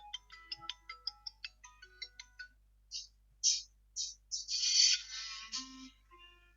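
A Redmi Note 10 Pro smartphone loudspeaker plays a ringtone: a run of short, evenly spaced beeping tones, then louder, longer bright chimes, clear and close with no voices.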